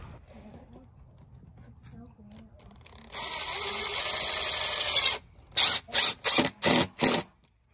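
A power drill drives screws into shallow wood laid over sandy ground, first as a loud steady whine of about two seconds, then as five short quick bursts. Quiet talk is heard before the drilling starts.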